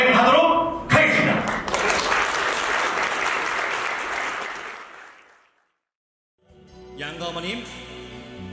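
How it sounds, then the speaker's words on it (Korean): Wedding guests clap in blessing as a ceremony begins, a loud burst of applause that swells and fades to silence, after which a voice speaks over amplified sound. "내빈 여러분들의 축복의 박수와 함께"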